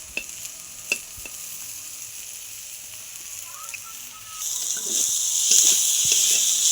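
Onion fries in a pan: a quiet backdrop with a few light utensil clinks gives way to a louder, continuous sizzle partway through, with soft stirring scrapes.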